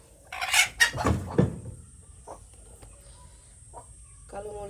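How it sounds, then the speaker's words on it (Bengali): A black hen sitting on eggs in a village clucks in several loud, close bursts, then gives fainter, scattered clucks with some background noise. "এই হচ্ছে আমার কালো মুরগি ডিম নিয়ে বসেছে"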